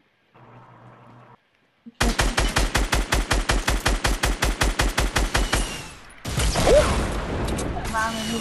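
Gunfire in a multiplayer shooter video game, a fast, regular burst of automatic shots lasting several seconds and then heavier blasts and noisy rumble, loud and close after a brief quiet stretch at the start.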